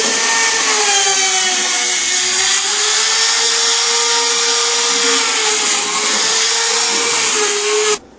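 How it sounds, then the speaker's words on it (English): A router trims the edge of laminate on a cabinet shelf, moving counterclockwise: a loud, steady high-pitched whine with a slight wavering pitch for about eight seconds before cutting off abruptly. "You want to take a J-roller, your router, routing in a counterclockwise direction."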